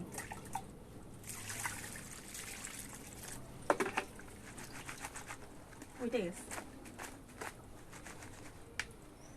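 Small fish, already scaled, are washed and swished by hand in water, with soft trickling, dribbling and occasional splashes that stay quiet, and a voice speaks now and then.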